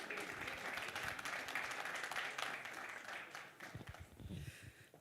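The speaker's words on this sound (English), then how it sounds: "So with a warm round of applause, may we kindly welcome to the stage Dr." Audience at a leadership dialogue event applauds steadily to welcome a speaker to the stage, a dense wash of many hands clapping throughout, with a few voices rising near the end.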